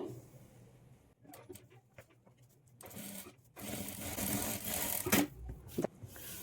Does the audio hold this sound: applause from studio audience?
no